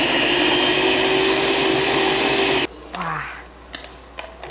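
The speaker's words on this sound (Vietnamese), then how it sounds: "xay cho nó đều vô." Blender whirring steadily as it grinds shrimp and shrimp shells for shrimp salt, loud and continuous, then cutting off abruptly partway through and leaving quiet kitchen clatter.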